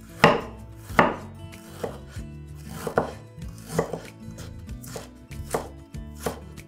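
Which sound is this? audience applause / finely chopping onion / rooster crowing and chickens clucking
finely chopping onion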